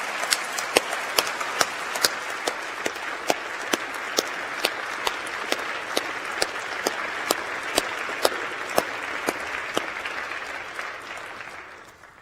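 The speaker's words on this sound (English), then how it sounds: "let me call on you, our graduates, to join me in applauding our outstanding staff" Graduation ceremony audience at the University of York applauding staff: steady, dense clapping sustained for about twelve seconds, fading slightly toward the end.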